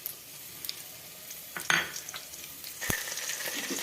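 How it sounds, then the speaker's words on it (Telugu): Tempering seeds and garlic hit hot oil together for a dal rasam, giving a soft, steady sizzle broken by a few sharp spoon-and-pan clinks, close up with no talk. "పోపు గింజలు, ఎల్లిపాయ ఇవన్నీ ఒకటేసారి వేసేస్తున్నాం"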